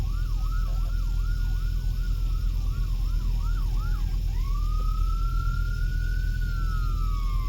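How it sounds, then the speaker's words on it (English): An ambulance siren in an East Las Vegas street, its rapid yelp wailing repeatedly and then switching to a long steady rising tone, loud and fairly close over a constant low traffic rumble. "It's an ambulance right there."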